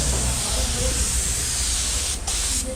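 Spray gun hissing steadily while painting the body panels of a HİDROMEK 220 excavator during restoration, a continuous loud close hiss with brief low voices.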